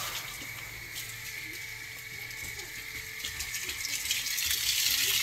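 Water pours steadily from above in a continuous close rushing splash that gradually grows louder, with no talking.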